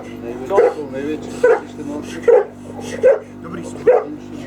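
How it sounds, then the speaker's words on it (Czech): A dog off the lead gives five short, single barks at roughly even intervals, close by, while someone talks steadily underneath. "pomalu vždycky přištěkne"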